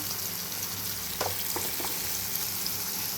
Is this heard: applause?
no